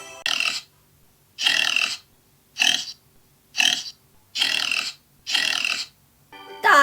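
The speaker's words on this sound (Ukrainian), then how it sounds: "Так, це свиня." Domestic pig grunting in six loud, separate bursts at a steady rhythm, each about half a second long, with short silences between them and no talk.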